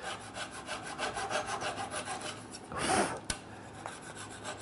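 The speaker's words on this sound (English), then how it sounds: "I'm just going to use a little flush trim saw" A Veritas flush trim saw cuts through wooden wedges and a tenon on a stool, giving a quiet, steady rasping back-and-forth of short strokes, followed by a brief louder scrape and a sharp tap near the end.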